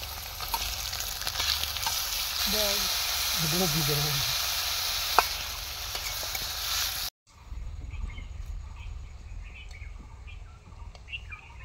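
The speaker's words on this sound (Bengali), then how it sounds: "বেগুনটাকে হালকা করে ভেজে নিচ্ছি।" Eggplant fries lightly in a pan outdoors by a river, a loud steady sizzle for about seven seconds with birds chirping over it, then quieter frying and faint outdoor sounds after a brief cut.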